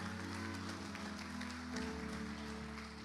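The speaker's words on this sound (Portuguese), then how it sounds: "Aplauda o Senhor." A church congregation claps for the Lord during a worship service, steady applause spread across the room over sustained organ-like musical tones.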